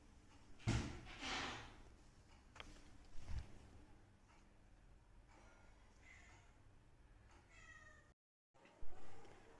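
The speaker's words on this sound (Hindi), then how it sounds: "नई बिल्ली की एंट्री हो गई है।" A cat meowing indoors as a new cat enters a closed-up house, a few faint meows scattered among soft thumps and a brief door-like knock in a quiet room.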